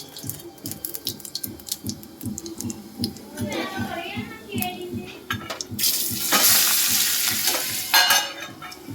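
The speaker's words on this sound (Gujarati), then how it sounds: "મમ્મી વઘારે છે શાક" Stuffed whole eggplant curry is tempered in a pan with fenugreek and cumin seeds: a rhythmic scraping stir repeats throughout, with a burst of loud sizzling rising in the second half, and faint voices can be heard.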